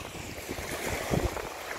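Sea waves wash ashore at the Mansalangan Sandbar in Balabac, Palawan, Philippines, a steady close surf roar mixed with wind buffeting the microphone, with no voices.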